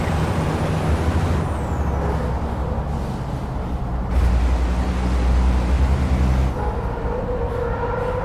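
A racing truck in FIA Euro Truck Racing brakes hard on track, giving a loud, continuous roar with hissing air-brake bursts that swell and ease over several seconds, with no talk.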